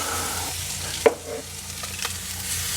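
Soft, steady sizzling of chicken wings cooking on a Kamado Joe grill, with a sharp clack of a utensil and a few light scraping taps.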